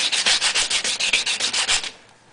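Chrome sanded off by hand with 220 grit sandpaper, about a dozen quick rhythmic rasping strokes, close and loud, ending abruptly.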